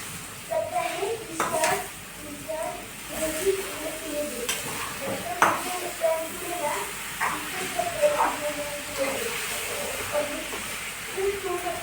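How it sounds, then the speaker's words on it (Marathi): Sugar being stirred into a beetroot laddu mixture in a pan, with repeated spoon scrapes and knocks against the metal over a soft sizzle and hiss, while a person speaks throughout. "आता साखर टाकू थोडी थोडी टाकायची आधी एक वाटी टाकलेली आहे आणि छान असं मिक्स करून घ्यायचं"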